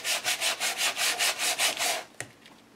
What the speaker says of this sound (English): I'm going to bring in sandpaper and scuff up the pages a little bit.